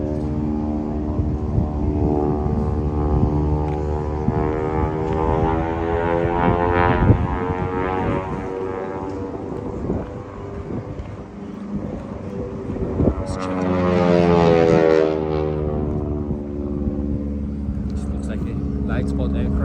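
Biplane performing a barrel roll at the Oshkosh airshow, its engine droning steadily and swelling as it passes, heard at a distance under continuous crowd chatter and commentary.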